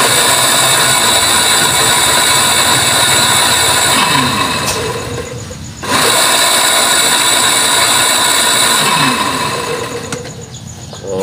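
A water pump engine, just repaired after its impeller came apart, runs with a loud, steady close-up drone and a mechanical rattle that dips briefly before picking back up.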